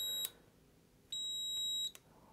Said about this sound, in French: Ça veut dire quand on ne touche pas un objet, il bip, et dès qu'on le touche et qu'il fait contact